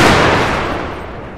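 A dense, roaring musket volley from American Civil War infantry fills a Total War battle at Franklin, 1864: a loud, continuous crackle of many rifles firing together that slowly fades.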